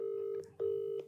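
A phone line sounds during dialing for a prank call: faint, steady electronic tones broken into short beeping segments with brief gaps and no voices.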